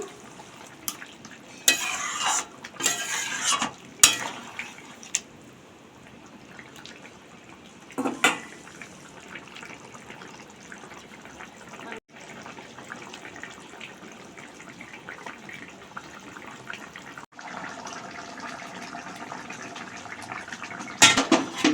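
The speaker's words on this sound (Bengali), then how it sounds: "ঝোলটা ফুটে গেছে মাছটা দিয়ে দিলাম" Catla fish simmers in a boiling curry with ridge gourd and potato in a pan: soft bubbling and faint watery churning, with occasional clinks and stirring bursts, quiet and close throughout.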